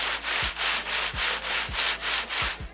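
Rhythmic rough rustling and scraping of thick green ghillie suit material, about eight swishes in a steady back-and-forth pattern, close and continuous.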